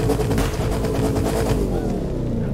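Bugatti Chiron engine in the racing game The Crew 2, played on a Logitech G29 wheel, a loud continuous roar that stays steady and full throughout, with no talk over it.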